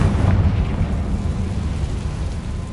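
A Confringo spell blast in a video game, rendered as a sustained, loud, rumbling explosion with heavy low-end boom that fills the whole moment with no voices over it.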